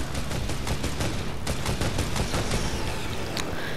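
Fortnite gunfire as a player shoots at the ground in a town, a rapid run of loud repeated shots with brief pauses, steady and close throughout.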